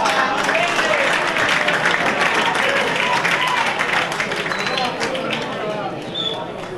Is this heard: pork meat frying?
no